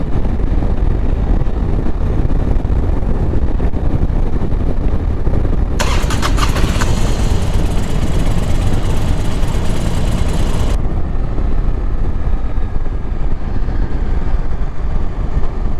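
A Triumph America motorcycle engine cranks and fires into a steady idle, heard loud and close against constant wind buffeting on a winter outing.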